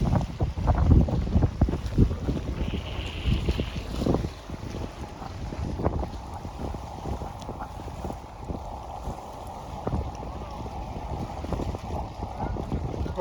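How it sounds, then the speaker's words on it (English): Strong wind gusting across a pier on Lake Chapala, Mexico, roaring and buffeting the microphone in heavy low rumbles, with water and waves slapping beneath, loudest early and easing slightly later. "It's a windy day on the pier in Lake Chapala"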